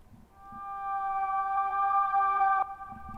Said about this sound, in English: the E piano, but I just reversed it and now it sounds like this.